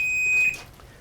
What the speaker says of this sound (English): there's my timer going off again